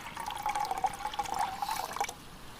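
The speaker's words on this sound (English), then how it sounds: "I might just actually pour a bit of water on the ground." Water poured from a container onto the ground at a campsite, a close trickling, splashing stream with uneven gurgles that runs for about two seconds and then stops.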